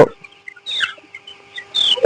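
Several chickens cluck and squawk in short, scattered bursts against a quiet background hum.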